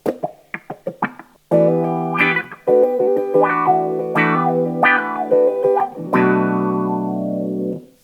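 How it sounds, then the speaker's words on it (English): Electric guitar notes and chords sweeping through a wah pedal, the tone opening and closing in vowel-like swells, ringing out loudly with no voices. "It sounds like any other wah wah pedal."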